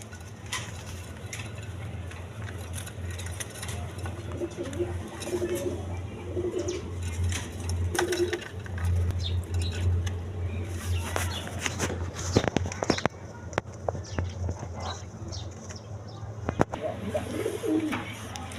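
A pair of quality filback pigeons, crested male and plain-headed hen, coo steadily in low repeated calls at close range, with occasional scuffles and footsteps over a constant background hum.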